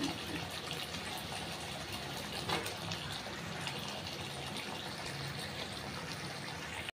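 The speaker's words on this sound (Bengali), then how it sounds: "এরপর জল দিয়ে দেবো" Water pours steadily into a pan of fish curry with fried potatoes and spices, a continuous close rushing splash lasting several seconds.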